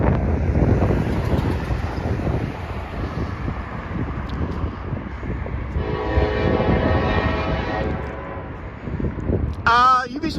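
A train passes through town with a long horn blast, rumbling and heavy under gusting wind noise outdoors, the horn sounding loud and sustained midway, with a voice briefly heard.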